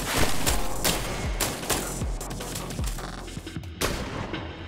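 Pistol shots fire in the video game I Am Your Beast, a fast, evenly spaced series of loud, close cracks, roughly eight or nine in a row.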